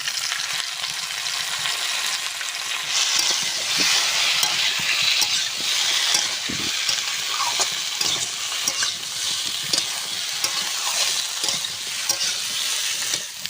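Mixed vegetables frying together in a pan, a constant hissing sizzle with repeated scrapes and knocks of a spatula stirring, close and steady.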